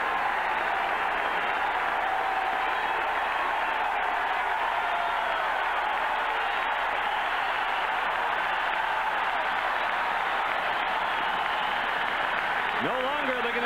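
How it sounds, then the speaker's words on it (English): A packed football stadium crowd at Kansas State roars for the Wildcats' defense against Colorado in 1991, a steady, dense wall of cheering that holds for the whole stretch without letting up. "listen to the crowd for the Kansas State defense"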